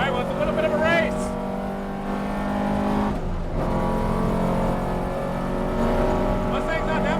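A Ford Mustang accelerates down a race track straight with a steady, loud engine drone, heard alongside a McLaren Speedtail and a Porsche 356 in the session, while someone talks over the noise throughout.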